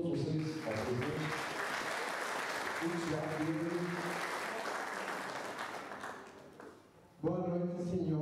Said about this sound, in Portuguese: Eu peço uma salva de palmas a todos vocês, para o presidente